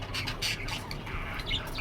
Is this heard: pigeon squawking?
yes